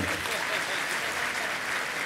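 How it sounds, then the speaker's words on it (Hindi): A crowd at a Mangal Pravachan religious discourse by Muni Pramansagar breaks into steady, even clapping, a soft continuous wash heard alone for a couple of seconds. "तो एक बार तालियां तो बजा दो।"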